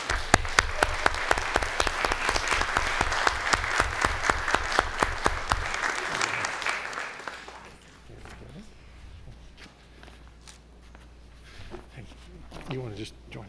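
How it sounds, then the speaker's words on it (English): An audience at a school board meeting claps in a brisk, loud round of applause for several seconds, then the clapping fades into quieter room noise and a few scattered claps. "give Ms. Browning a big round of applause"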